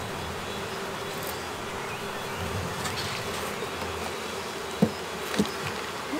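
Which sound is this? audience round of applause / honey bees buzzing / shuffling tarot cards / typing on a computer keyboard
honey bees buzzing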